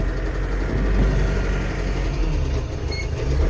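A Scout 504 C tractor engine pulls away in first gear, a loud, steady low rumble that holds nearly level throughout, close by with no talk over it.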